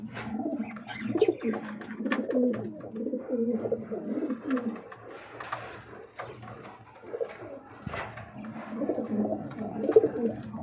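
A pair of black Sirazi pigeons coo repeatedly at close range, soft rhythmic rolling calls overlapping one another with occasional chirps and a brief clatter.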